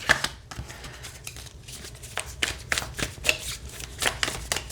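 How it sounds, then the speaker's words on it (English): Nightmare Before Christmas tarot cards being shuffled in quick riffling bursts, close and crisp, repeating several times with brief pauses between. "Yeah, it shuffles really well."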